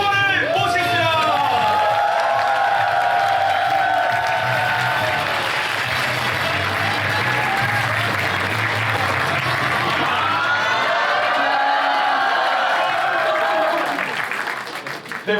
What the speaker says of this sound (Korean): 여러분 큰 함성 박수와 함께